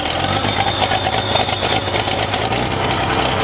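Engine of a Farmall 560 tractor with the choke pulled, a loud close rattling chug with a steady pulsing rhythm and a high whine on top.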